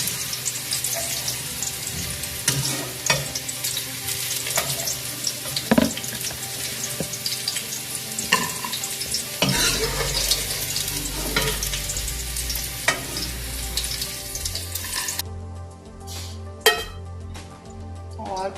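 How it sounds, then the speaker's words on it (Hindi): Bitter gourds (karela) fry in hot oil in a pan, giving a steady close sizzle with occasional stirring clinks and scrapes, no talking. "करेले हमारे फ्राई हो रहे हैं"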